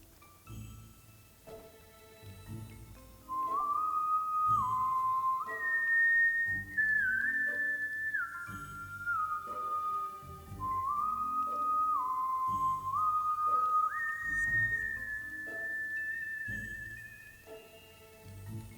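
A character in the video game My Time at Sandrock whistles a wandering tune in a high, clear voice-like whistle, steady and fairly loud over soft game background music, with no talking.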